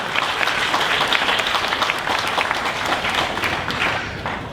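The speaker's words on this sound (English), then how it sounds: "please again, one more time, give a round of applause" Loud, sustained applause from an audience at a state auctioneer championship in Kansas, a thick continuous roar of clapping that holds steady throughout.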